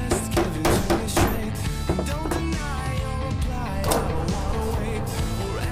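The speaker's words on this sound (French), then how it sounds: "Koen marque la position des points de fixation avec un poinçon." Sharp metal hammer blows strike a punch to mark fixing points on a cut steel clamp for a café racer motorcycle build, a quick irregular series of loud clacks over a busy workshop background with music.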